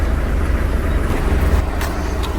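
A used bus engine idling steadily after starting, a loud continuous low rumble heard up close with no talking over it.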